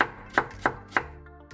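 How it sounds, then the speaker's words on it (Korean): A knife finely chopping carrot on a board: four or five crisp, evenly spaced thuds heard close and fairly quiet, with no voices. "당근 약간을 잘게 썰어주세요."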